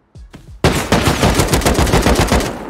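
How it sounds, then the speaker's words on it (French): Rapid bursts of gunfire with explosive ammunition in the video game Rust: two sharp shots, then a fast, loud volley of cracking rounds that continues alone to the end. "Non, c'est eux qui tirent la balle explo."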